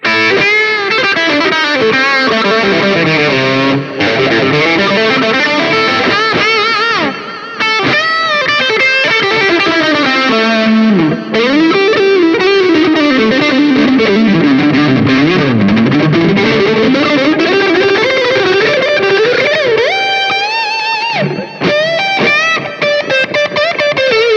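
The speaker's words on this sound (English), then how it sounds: "why don't we switch to a Strat, and let's hear how that sounds" A Stratocaster with three single-coil pickups through a Line 6 POD Go modeling a Bogner Shiva amp plays a continuous distorted riff with modulated, chorus-like shimmer and sliding bends, loud and close, with no voices.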